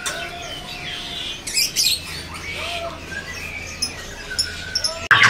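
Scattered chirps and short whistled calls of white-rumped shama birds ring out at a bird market stall over a faint background murmur, with a few sharp clicks near the end.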